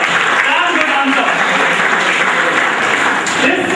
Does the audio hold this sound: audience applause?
yes